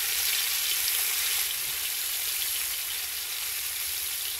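Shrimp frying in oil for bharta gives a dense, steady sizzle close up. It holds at an even loudness throughout, with no voices.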